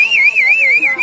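A referee's whistle on a football pitch at a stadium, one loud, steady, warbling blast held for about a second.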